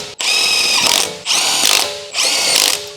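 An impact wrench with a 23mm short socket, extension and impact ring snugs a wheel lug nut on a Dodge Ram, firing in three loud rattling bursts, each about a second long, with brief gaps between them.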